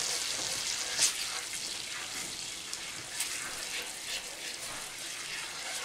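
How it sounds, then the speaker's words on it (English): Food sizzles steadily in a pan as it is stirred with added salt while cooking s**t on a shingle, a continuous hissing fry with a brief louder scrape near the start and no talk. "Stir it around."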